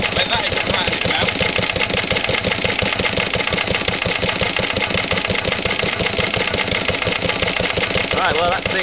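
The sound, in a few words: old Lister LD1 diesel engine running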